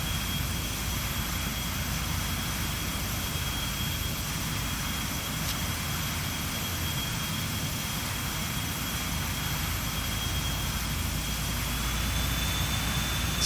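BAe 146 jet engines in the flight simulator X-Plane 11, a steady loud roar with a constant high whine running unbroken throughout, no speech.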